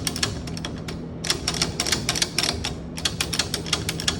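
A ratcheting B&M shifter in a 1994 Chevy C1500 is moved through its gates, giving quick series of sharp mechanical clicks in bursts, close and fairly quiet.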